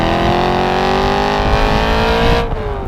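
A BMW E92 M3's naturally aspirated V8 revs hard and close, its pitch climbing steadily as it winds toward the top of the range, then dropping off abruptly near the end. No voices.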